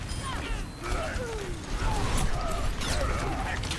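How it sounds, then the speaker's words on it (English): A weapon reloads in the Overwatch competitive game, a run of mechanical clicks, ratcheting and whirring set against busy game noise. "Reloading."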